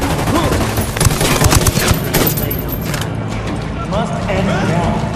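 Dense gunfire and fusillade bursts in Ghost Recon Wildlands, loud and sustained over several seconds with voices speaking amid the shooting.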